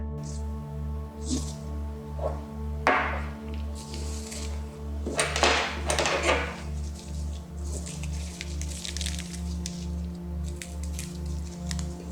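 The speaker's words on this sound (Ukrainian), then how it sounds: "Беремо ємність та насипаємо туди сіль." Salt poured into a container for a home DNA extraction experiment, heard as a few short gritty rustling bursts, the longest near the middle, over a steady low electrical hum.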